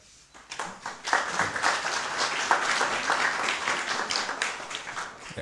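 An audience applauds a lecturer at a talk in Nagydorog, starting sparse and swelling quickly into sustained, dense clapping from a roomful of people before fading slightly at the end.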